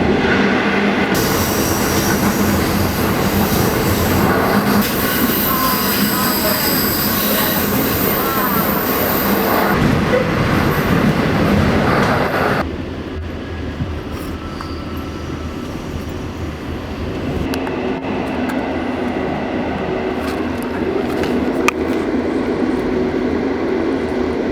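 Passenger train on a rail line in China pulling into a station high in the mountains, a loud steady rumble of wheels and carriage noise with a brief squeal before the sound drops to a quieter idling hum.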